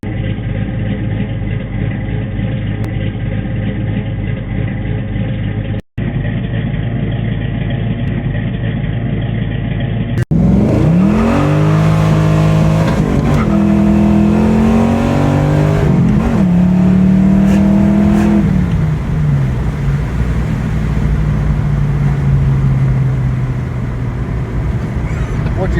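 A Fox Body Mustang fitted with a Flowmaster American Thunder Series 40 2 1/2-inch exhaust idles with a steady low rumble, then revs up and down loudly several times in a series of swelling, falling pulls.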